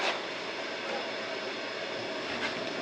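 A steady, even roar of a heater running in a garage fills the space, a constant broadband hiss and whoosh with no pauses.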